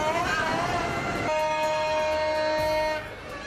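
Azadi train arriving at Peshawar station, a rolling rumble of railcars joined by a long sustained horn blast that cuts off abruptly before the rumble fades.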